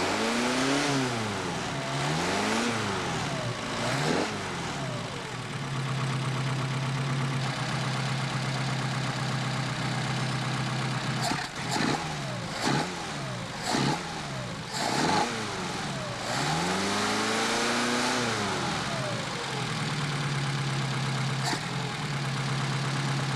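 A Mercedes 190SL engine fitted with Solex 44PHH carburetors idles steadily up close, its pitch swooping up and down as the throttle is blipped several times, with no voices.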